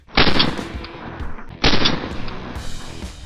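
Two sharp, loud gunshots from a compact Czech pistol fired at 20 meters, spaced about a second and a half apart, each with a short echoing tail and no talk.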